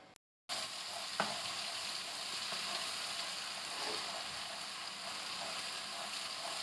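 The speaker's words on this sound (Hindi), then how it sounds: "1 चम्मच भर के हम डालेंगे जिंजर गार्लिक पेस्ट।" Ginger garlic paste frying in about half a cup of cooking oil for a chicken karahi, a steady broadband sizzle that bursts in after a brief silence and holds evenly, with an occasional faint clink, no talking.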